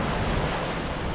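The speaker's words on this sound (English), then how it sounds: "that's some pretty big waves" Waves wash against a sailboat on Lake Michigan amid heavy wind buffeting, a loud, continuous churning rumble with no speech.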